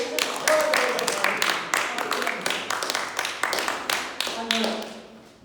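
A live audience at a mentalism show breaks into applause, dense overlapping claps at steady strength for several seconds and then fading, with some voices mixed in.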